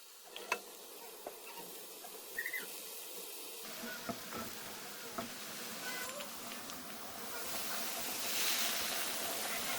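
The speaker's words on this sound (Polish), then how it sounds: "Na patelni podsmażam warzywa." Vegetables sautéing in a frying pan give a soft, continuous sizzle that builds louder toward the end, with scattered light clicks and taps from stirring.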